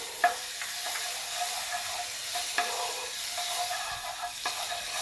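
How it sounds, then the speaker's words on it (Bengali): A small amount of butter in a wok gives a steady close hiss and sizzle as it melts, with a few faint clinks of a utensil against the pan and no talk. "এরপর আমি কড়াতে খানিকটা অল্প একটু বাটার দিয়ে দিলাম।"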